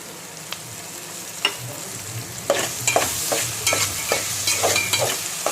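Raw banana pieces and soaked moong dal fry in a pan with onion, a soft steady sizzle broken by repeated scraping stirs of a spoon against the pan, close and moderately loud.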